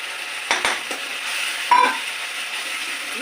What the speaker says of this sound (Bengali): এবার এটাকেও ভালো করে নাড়বো